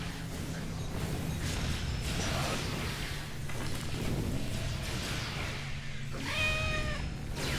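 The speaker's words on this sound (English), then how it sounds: "I keep hearing a cat. Why am I hearing a cat?" A cat meows several times within the video game Star Trek Online, a short rising mew near the end standing out over a steady bed of game ambience and low rumble.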